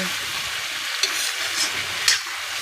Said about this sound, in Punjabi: ਚੰਗੀ ਤਰ੍ਹਾਂ ਅਸੀਂ ਇਹਨੂੰ ਹਿਲਾ ਦਿੰਨੇ ਆ ਜੀ